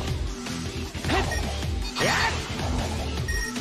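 Crashing and smashing impacts as Sonic breaks robots in a Sonic Infinity Engine game, loud bursts with swooping effects over a busy, continuous backdrop.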